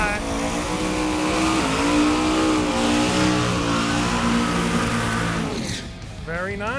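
A 1968 Chevy Camaro on a drag strip holds a loud, sustained engine roar during a burnout, rising and wavering in pitch before cutting off near the end, with announcers talking over it throughout.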